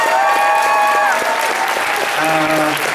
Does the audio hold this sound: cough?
no